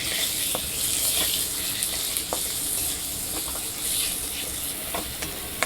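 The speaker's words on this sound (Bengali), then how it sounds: "এটাকে কষানো হবে, কষা মাংস হচ্ছে লুচির সাথে খাওয়ার জন্য।" Meat coated in spice paste fries for Bengali kosha mangsho, a continuous loud sizzle with occasional light clinks and scrapes of a spoon stirring the pan, no talking.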